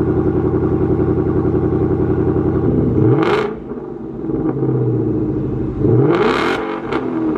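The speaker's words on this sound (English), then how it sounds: "let's fire it up. Do some revs so you guys can hear with the all new double H pipe." A Ford Mustang Mach 1 with a double H-pipe exhaust idles loudly, then gives two sharp revs that climb and fall back to a burbling idle, close and alone.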